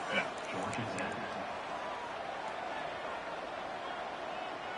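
Steady roar of a stadium crowd in an NCAA 26 college football video game, BYU against Georgia Tech, a dense continuous wash of noise that holds at the same level throughout with no break.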